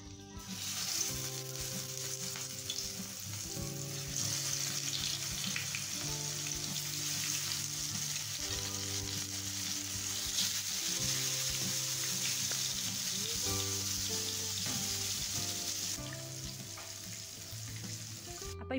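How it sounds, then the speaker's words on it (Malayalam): Fish frying in a pan sends up a steady, even sizzle that carries on without a break for the whole stretch, fairly quiet and close, with no voices. "ഇനി മീനൊന്ന് പൊരിച്ചെടുക്കണം"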